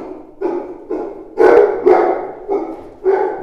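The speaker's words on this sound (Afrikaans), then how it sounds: "Nou moet ons maar eers wag tot almal klaar geblaf het." Several dogs bark in short bursts, about seven loud, fairly close barks in an uneven rhythm against an otherwise quiet background.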